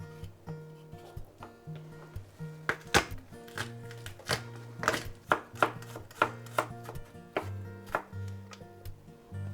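A knife chops coarsely minced garlic on a board in a home kitchen, a run of sharp, uneven taps and thuds at close range with no talking.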